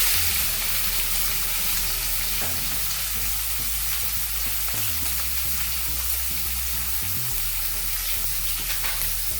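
Chopped onions fry in a pan with curry leaves for spicy masala noodles. A loud, continuous close sizzle is broken by occasional stirring scrapes and bumps, with no talking.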